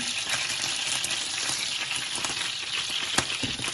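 Chicken skewers sizzle and fry in a hot pan, a steady close crackling hiss with small pops and one sharp tick near the end, with no voices.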